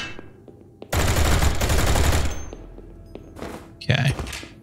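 Gunfire in the shooter game Project Warlock 2, a loud dense burst of rapid automatic fire lasting over a second, then thuds and a sharp single blast, with a voice speaking briefly near the end.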